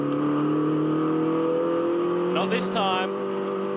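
MINI race cars drone on track during a race broadcast, engines holding a steady close tone that swells as one passes by, under a commentator's voice.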